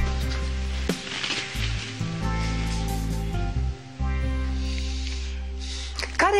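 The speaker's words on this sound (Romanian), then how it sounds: "Peștele, să-l pun la prăjit." A fish frying in a pan gives a steady sizzle that runs through the whole scene, mixed with background music and dipping briefly in places.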